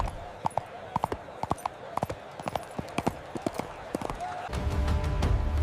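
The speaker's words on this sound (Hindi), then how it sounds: "मेरे घोड़े तैयार करो, मेरे घोड़े तैयार करो" Horse hooves clip-clop in a quick, uneven rhythm in an animated devotional story, a run of sharp, fairly close knocks followed by a louder rumbling wash at the end.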